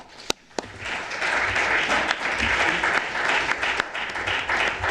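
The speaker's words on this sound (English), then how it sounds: "let's give them a round of applause." A crowd claps steadily and fairly loudly for several seconds, a few sharp individual claps standing out at the start.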